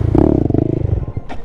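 A small Honda Grom motorcycle engine with an exhaust leak runs close by with a rough, uneven putter and a rattly exhaust note, about a second and a half long.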